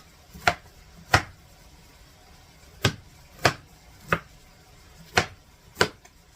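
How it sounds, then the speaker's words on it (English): Mushrooms and cauliflower chopped into smaller pieces on a board, eight sharp, separate knife chops at an uneven pace, close and crisp with quiet gaps between them. "Chop those in a little bit smaller pieces there."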